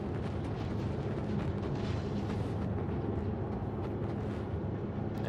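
Two weapons fire together in the survival video game Grounded, making a loud, continuous roaring blast that holds steady without a break for several seconds.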